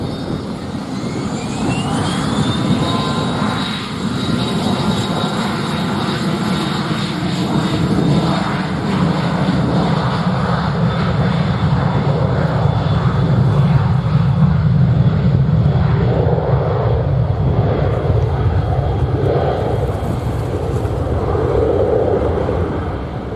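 Airplane taking off from runway 07 at Montego Bay airport in Jamaica, a loud sustained engine roar with a rising whine, steady and close throughout the whole stretch.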